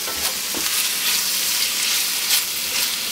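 Onions fry in a hot pan for a band-practice pasta, giving a steady, loud sizzle with a bright crackling hiss throughout and a few soft stirring scrapes, with no voices.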